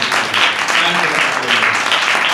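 Clapping from a church congregation during a Hindi-language sermon, a steady dense wash of applause with voices mixed in, sustained throughout.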